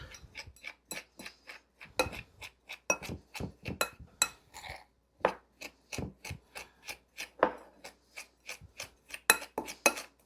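Pizza dough ingredients stirred in a bowl with a utensil, making a quick steady series of clinks and scrapes against the bowl's sides, close and clear with brief pauses and no talking.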